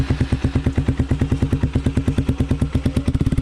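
Yamaha R15 V4 motorcycle engine braking on a steep downhill hill road, a loud, close, rapid rhythmic thumping engine pulse that stays steady and quickens slightly near the end, with no talk.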